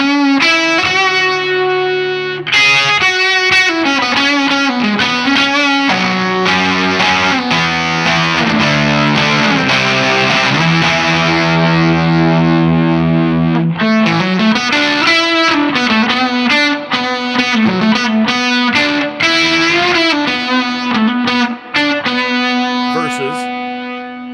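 A palm-muted electric guitar plays through a DanDrive distortion pedal. Loud, gritty, sustained notes and chugging riffs run nearly without a break across the whole stretch, with no talk over them.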